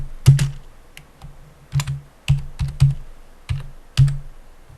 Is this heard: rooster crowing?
no